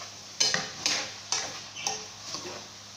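Eggplant and canned tuna are sautéed in a pan, a spatula scraping and clinking against the metal in several rhythmic strokes over a soft continuous sizzle.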